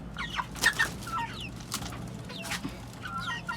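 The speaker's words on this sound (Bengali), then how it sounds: "দেখেন এই যে দেশি মোরগ, অথচ ভয় নেই।" Native country chickens cluck in short bursts while feeding on greens and papaya leaves in a backyard, several birds near and farther off, with low outdoor rumble underneath.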